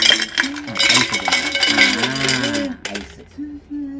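Ice cubes clatter into a glass of milk-and-malai sherbet, several hard clinks and knocks in quick succession, loud and close, with a short pause and a final rattle.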